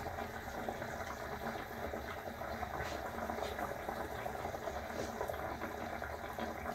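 Sweet and sour sauce bubbles at a steady simmer in a pot, a constant dense boil heard close up with no pauses.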